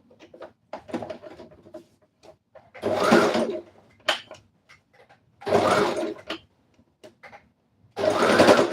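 A sewing machine runs in short, uneven bursts while sewing a bubu dress with a collar, with clicks and handling noises in the gaps and three louder stretches of stitching.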